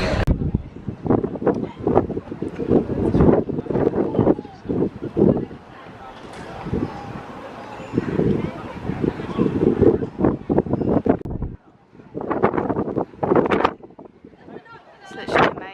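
Gusty wind buffets the microphone at a high Hong Kong lookout, loud rumbling bursts coming and going across the scene while several people talk and laugh nearby.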